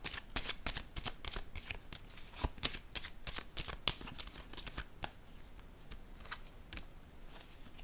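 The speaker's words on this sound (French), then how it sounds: "Je vais déposer une autre carte ici sur le changement." Tarot cards laid down one after another on a surface, a run of crisp close slaps and soft shuffling snaps in quick irregular succession, fairly faint, with no voices.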